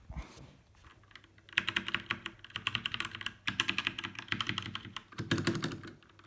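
Rapid typing on an RK61 mechanical keyboard, a dense run of crisp clicky keystrokes heard up close, with a brief pause midway before the typing resumes.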